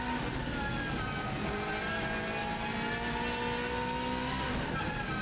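A Subaru WRX STI rally car's engine roars steadily at high speed on the Isle of Man TT course, with gear-driven pitch sweeping upward and dropping with shifts, loud and continuous in the cabin with no talking.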